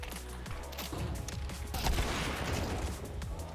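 Rapid bursts of gunfire in a Counter-Strike match on Faceit, dense overlapping shots filling the whole moment at steady, loud level with no pause.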